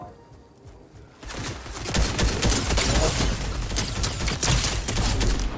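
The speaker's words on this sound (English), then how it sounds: "Yep, somebody has a shot. So somebody has a sniper." Sniper rifle fire in a tactical multiplayer video game, a sudden dense burst of loud shots and crackling impacts that starts after a quiet second and keeps going to the end, with no talk over it.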